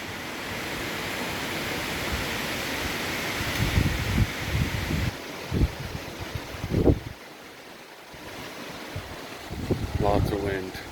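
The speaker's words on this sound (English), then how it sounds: "Turned out to be quite the windy day." Steady roaring wind noise fills the recording, a broad rushing sound with gusts buffeting the microphone, loud and constant throughout.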